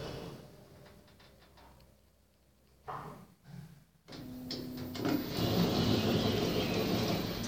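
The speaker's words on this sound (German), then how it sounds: "Schließe die Tür gerade wieder und fahre einen Stock nach unten." An elevator's door slides shut with a short mechanical clunk, then the car starts descending one floor, a steady close motor hum and rumble rising and holding to the end.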